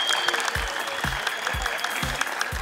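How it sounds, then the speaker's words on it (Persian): An audience applauds at a television competition show. Steady clapping is broken by regular heavy rhythmic thumps about every half second, and the whole sound is fairly close and loud. "دوستا تشویقش کنین، تشویق کنین هر دوشه"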